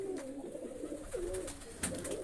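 Pigeons let out of their loft coo in low, wavering throaty calls, close and fairly soft, broken by a sharp click near the end.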